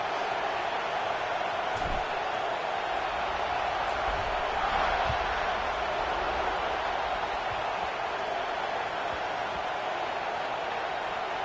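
Stadium crowd in a college football video game, a dense continuous roar of cheering that holds steady at a moderate level throughout, with no clear talk.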